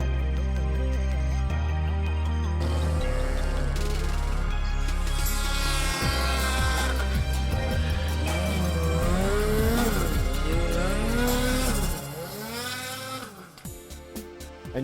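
A Ski-Doo Summit XM snowmobile's two-stroke engine revs loud and close, its pitch rising and falling in repeated sweeps before dropping off into choppier bursts near the end.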